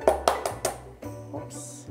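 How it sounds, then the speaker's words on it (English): An egg cracked against the bowl into a well of flour while mixing batter for crispy pie tee pastry shells: a few sharp, close taps in quick succession, then a softer settle with a faint hum beneath. "I'm going to break the egg."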